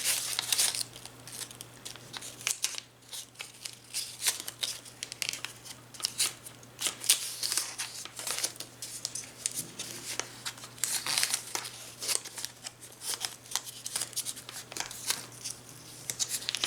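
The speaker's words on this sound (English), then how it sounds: "we're just going to wrap the tape around it" Tape being wrapped around a Dollar Tree DIY crescent moon Santa wreath, a steady run of crinkling, rustling and tearing sounds up close, with no talking.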